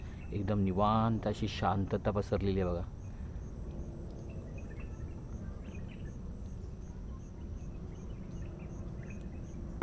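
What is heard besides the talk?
crickets chirping at a mangrove creek in the evening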